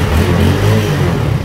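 A Yamaha Sirius motorbike engine runs steadily at idle, close and loud, a smooth even hum with no voices.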